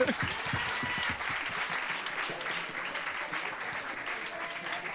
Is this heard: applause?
yes